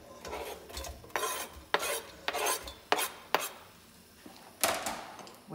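A pan of hot rapeseed or vegetable oil takes the onions for a zucchini and sweet potato soup, and a moderate sizzle follows with repeated scraping clatters of a utensil against the pan, with no voices.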